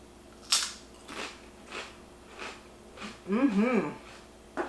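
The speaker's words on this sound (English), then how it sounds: "let's give them a try and see how crunchy they really are" Several crisp crunches spaced about a second apart, close to the ear, as crispy tofu chips are bitten and chewed, followed by a short murmur.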